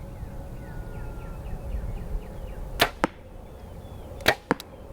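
A compound hunting bow looses arrows at targets during practice: two sharp release snaps, each followed a beat later by a distinct thwack of impact, over a quiet outdoor background with no speech.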